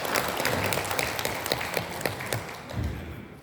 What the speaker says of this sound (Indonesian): Tepuk tangan buat Provinsi Jawa Tengah.